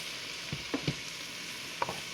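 A handful of cabbage going into a hot soup pot, a soft continuous sizzle with a few quiet clicks and rustles of leaves and stirring, fairly faint.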